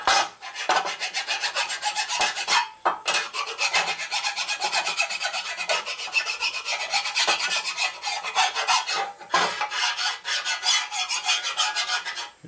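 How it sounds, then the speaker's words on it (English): A metal file is drawn in repeated rasping strokes across a Harley Shovelhead inner primary cover, each scrape harsh and close, with a few brief pauses between strokes and no talk. "The file change as you go across and the noise it makes."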